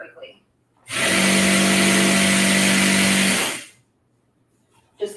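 A sewing machine stitches layers of tutu tulle onto ribbon in one steady, loud motor whir of about two and a half seconds, starting and stopping abruptly, with quiet moments before and after.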